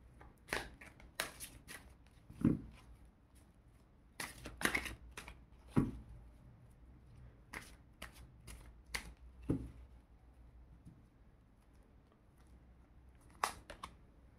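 Tarot cards are shuffled by hand in repeated bursts, close crisp riffling and slapping with short pauses between bursts and no talking.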